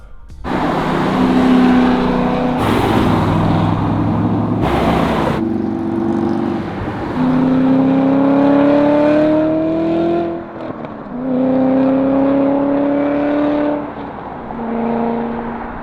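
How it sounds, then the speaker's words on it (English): A 670 whp 2014 Cadillac CTS-V Wagon with a manual transmission and widebody cruising, its engine droning loud and steady from inside and rising in pitch through several gear pulls, with brief lifts between shifts and no talk. "here we go for a cruise in my friend Mike's 2014 CTS-V Wagon"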